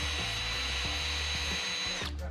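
A power drill whirs continuously while drilling holes in a car part on an AWD Integra build, steady and close with brief changes in load as the bit bites.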